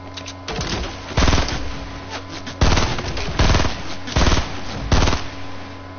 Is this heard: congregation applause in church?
no